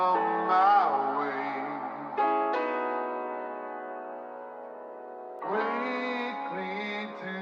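A slowed, chopped rock sample plays as sustained, layered music with abrupt cuts and restarts at a few points, loud and without any talking.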